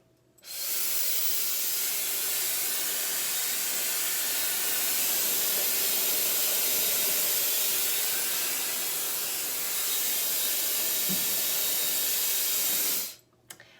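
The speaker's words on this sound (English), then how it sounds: "this is a great dryer. As you can see, it's very quiet, very high powerful" A hair dryer switches on and blows a steady, airy hiss for about thirteen seconds, then cuts off abruptly, with no talking over it.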